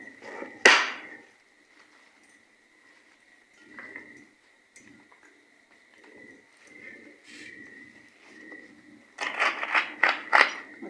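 A knife chops through folded taro leaves in a home kitchen, with one sharp cut near the start, softer intermittent contacts, and a quick series of close, crisp chops at the end.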